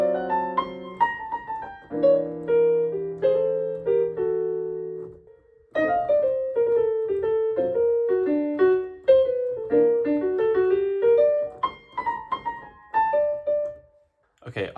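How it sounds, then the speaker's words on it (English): Solo piano runs through Locrian, altered and melodic minor scales in a jazz style, with a few held chords and then flowing single-note lines, close and clear and not under talk. "the altered, and the melodic minor sound like this"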